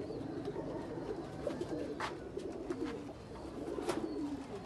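Soft, repeated cooing of pigeons close by, overlapping calls rolling on steadily with a faint background hiss.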